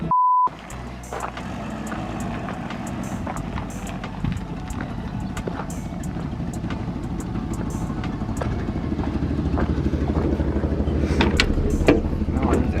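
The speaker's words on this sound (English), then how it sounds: "I'm gonna move the Jeep out the way." A 1979 AMC Concord vehicle engine runs steadily and builds slightly as it is moved, with low continuous rumble, scattered clicks and knocks, and brief bits of talk at the start.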